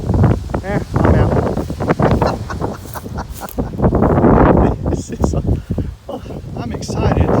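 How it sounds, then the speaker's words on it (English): Gusty wind buffets the microphone in rough, uneven bursts at a bee nuc box, with voices and rustling mixed into the roar. "it's really windy."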